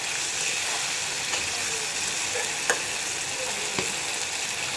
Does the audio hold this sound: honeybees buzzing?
no